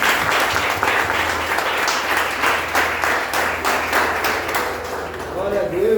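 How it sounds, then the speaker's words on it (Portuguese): A church congregation breaks into applause during a Sunday service, a dense, even round of clapping that holds steady for several seconds and thins slightly toward the end. "Uma salva de palmas."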